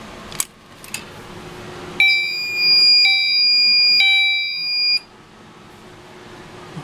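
A fire alarm system goes off after the zone 2 pull station is pulled: a loud, steady electronic alarm tone rings alone for about three seconds, then cuts off, with a few faint clicks before it.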